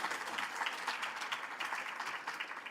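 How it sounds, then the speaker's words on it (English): Steady applause from a crowd at a school district sports awards ceremony, dense continuous clapping at moderate distance with no talk over it. "Let's give a round of applause for Dr. Lewis, our superintendent."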